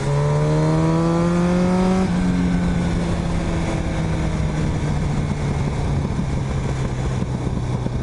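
A Kawasaki motorcycle rides along with a loud engine hum close by, its pitch climbing through gears and then settling into a steady drone over rushing wind.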